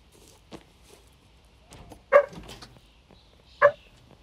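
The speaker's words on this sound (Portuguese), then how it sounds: "cachorro latindo." A dog in the video game BAD 2 BAD Apocalypse barks twice, two short sharp barks a second and a half apart over quiet background movement.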